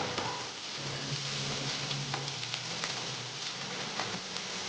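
Paneer cubes fry lightly in a pan, a soft continuous sizzle with faint crackles and pops, quiet and steady with no talking.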